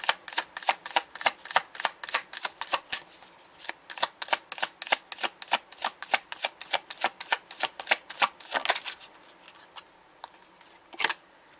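Tarot cards are shuffled in a quick, steady riffle of crisp, close slaps that run for several seconds, then slow to a few scattered flicks as cards are drawn.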